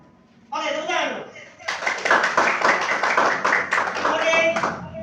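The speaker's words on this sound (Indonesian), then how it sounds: "Oke, tepuk tangan dulu." A classroom of students claps together after a lesson, brisk dense clapping from about two seconds on, preceded by a short spoken prompt and with voices mixed in.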